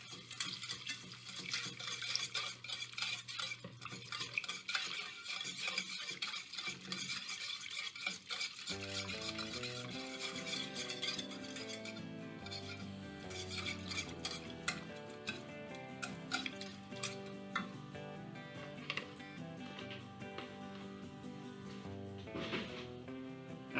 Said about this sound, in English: And you want to stir it.